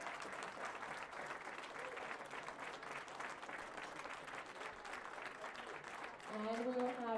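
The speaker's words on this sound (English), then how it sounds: "Let's give all of our lifters one more round of applause for their excellent performances today" A crowd applauds lifters at a women's classic powerlifting medal ceremony, with dense, sustained clapping filling the room until a voice cuts in near the end.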